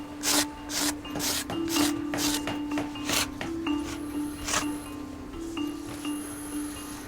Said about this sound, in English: nasty, flaky varnish just flaking off now